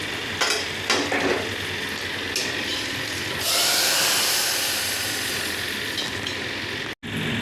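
Panch phoron and two dried red chillies fry in hot oil for tempering. A loud, continuous close sizzle swells partway through, with a few scraping knocks of a spoon against the pan and a brief dropout near the end.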